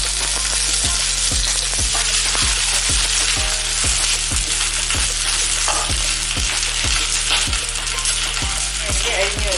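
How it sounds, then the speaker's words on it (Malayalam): Curry leaves sizzle loudly in hot oil, a dense close crackle under a steady run of sharp metallic taps of a spoon against the pan. "പിന്നെ ഇതിൽ കറിവേപ്പില ഇട്ട് കൊടുക്കണം"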